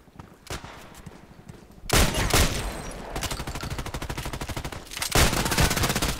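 Shotgun blasts in a sniper video game: one sharp shot, then a loud burst of rapid, dense gunfire continuing for several seconds with another heavy volley near the end, close and aggressive with no speech.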